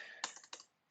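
A computer keyboard being typed on at a terminal: a few quick, close keystrokes in a short burst, the last tap landing after a brief pause, with no voices.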